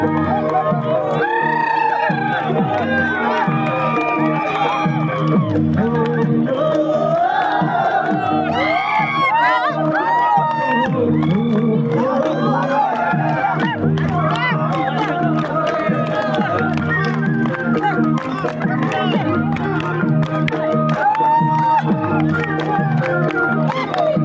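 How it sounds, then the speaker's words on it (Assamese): Congress supporters celebrate an election win in Titabor, Assam, with a dense, loud crowd chanting and cheering continuously, many voices overlapping into a steady roar throughout. "গৌৰৱ গগৈ জিন্দাবাদ জিন্দাবাদ ধ্বনিৰে মুখৰিত হৈ পৰিছে লোকসভা সমষ্টিৰ চৌদিশ"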